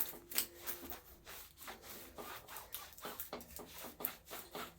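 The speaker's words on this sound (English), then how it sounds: "oily rag, just rubbing all the way around, taking all the dust and dirt off" An oily rag rubs around the sidewall of an old BMX tyre, producing close, quick, repeated scuffing and swishing strokes in an uneven rhythm.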